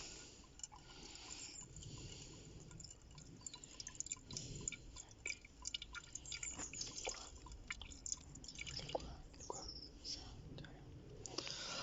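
Liquid drips and trickles from a diesel fuel filter being drained on a Peugeot/Citroën 1.6 HDi, a steady patter of drops close by against a soft, noisy background.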